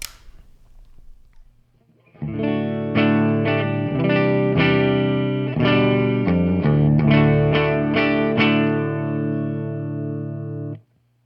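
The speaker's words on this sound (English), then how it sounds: "we're going to check out the clean sound first with the bright mode disengaged" Electric guitar played with a clean tone through a Peavey 6505 amp head with the bright switch off, a sequence of ringing chords and notes with sustained decay, loud and alone after a short quiet start.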